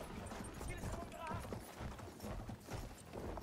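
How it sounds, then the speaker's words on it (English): Horse hooves clip-clop in Battlefield 1, a steady trotting rhythm mixed under constant battlefield noise and someone talking over it. "oh no, horsey, please be careful."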